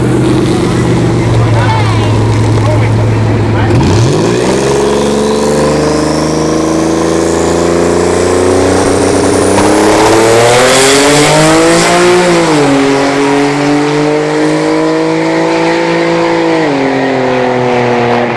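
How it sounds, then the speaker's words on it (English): V6 S197 Ford Mustang at a drag strip: a loud engine revs and accelerates through rising and falling pitch as it launches and pulls away, with a commentator's voice heard over it. "the V6 S197 Mustang Drew"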